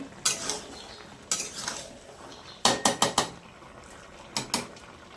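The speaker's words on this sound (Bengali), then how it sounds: "এবার এটা তরকারিটা একটু নেড়ে চেড়ে দিই।" A utensil clatters against a pan in a few sharp bunched knocks while fish-head Malabar spinach curry is stirred, close and clear with quiet gaps between.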